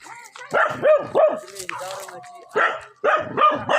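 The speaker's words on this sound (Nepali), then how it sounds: "तिम्रो कुकुर क्या साह्रो यहाँ भुकेको हामीलाई देखेर" A dog barking at visitors at a house, a run of loud, close, repeated barks in short bursts with a brief pause midway.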